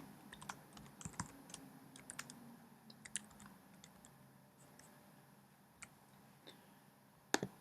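Typing on a computer keyboard, with scattered soft key clicks in uneven bursts and a few louder keystrokes, quiet and close, no talking.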